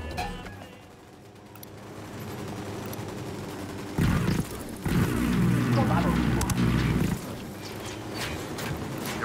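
Bursts of rapid automatic gunfire in Ghost Recon Wildlands crackle through a busy game mix, with a loud sustained volley in the middle and voices talking throughout.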